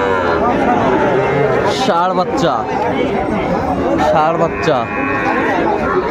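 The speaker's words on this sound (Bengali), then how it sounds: "এই যে একটা বাচ্চা ষাঁড়" A young bull calf lows several times at a busy cattle market, loud and close, its moos rising over steady crowd chatter and people talking nearby.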